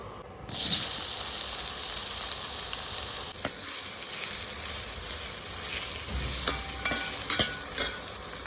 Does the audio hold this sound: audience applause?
no